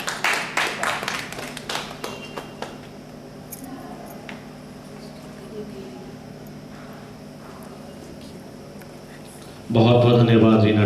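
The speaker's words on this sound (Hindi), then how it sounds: "आप सभी तालियों से इनका सम्मान बढ़ाएंगे।" At a publication event in Chamba, Himachal Pradesh, a small audience claps in short bursts of separate, uneven claps that fade after a few seconds, followed by a quieter stretch and then a loud burst of voice or music at the end.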